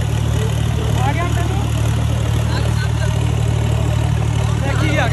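A tractor engine runs with a steady, loud, low rumble that continues throughout, while voices talk over it.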